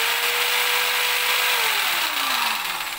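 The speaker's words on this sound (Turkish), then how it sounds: "Testere çalıştıracağız." A 500 watt power saw running on a 1500 watt 12 volt modified sine inverter gives a loud, steady motor whine, then its pitch slides down as it winds down.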